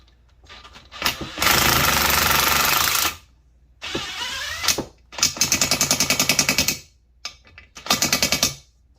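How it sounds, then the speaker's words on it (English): An impact driver drives quarter-inch bolts with washers into the governor holes of a Predator 212 Hemi engine. Several loud, close bursts of rapid hammering rattle out, separated by short silences. "throw some washers on them and you'll be able to impact them right into the governor holes"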